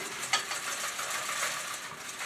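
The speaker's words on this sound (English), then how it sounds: "And I'm going to whisk it up." A jerky marinade with garlic powder is whisked briskly in a bowl, a soft continuous rhythmic swishing and faint clinking, close and quiet, with no talk.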